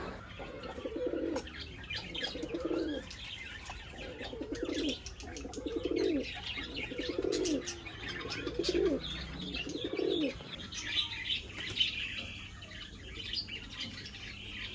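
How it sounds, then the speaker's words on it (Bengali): A short-face male exotic pigeon coos in a steady series of low, rounded calls, close and moderately loud, with faint chirps from other birds and a soft rustle of wings in the background. "মেলটাও খুব অ্যাক্টিভ খুব ডাকাডাকি করছিল"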